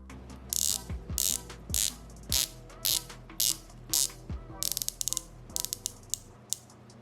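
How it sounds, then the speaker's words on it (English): Rotating bezel on a San Martin SN017 dive watch, a run of crisp, close ratcheting clicks in evenly spaced bursts, speeding into quicker single clicks toward the end, with no voices. "As for the bezel action, it's nice and tight with not much backplay. It rotates pretty nicely and sounds pretty good."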